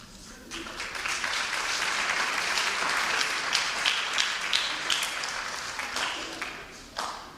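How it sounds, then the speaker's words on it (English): A crowd at a school fall athletic banquet applauds steadily for several seconds, a dense wash of clapping that swells and then tapers off. "Let's give one more round of applause to Coach McKeever and the girls tennis team."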